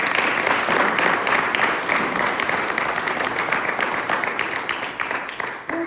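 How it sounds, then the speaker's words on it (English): Steady applause from a crowd fills the whole stretch, dense and even, with a faint voice beneath. "let's take a round of applause for the people who set this up today"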